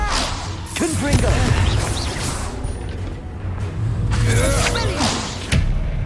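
The Confringo blasting spell from Hogwarts Legacy bursts out as whooshing swishes and heavy thudding booms in close, loud succession, with a voice shouting between the impacts.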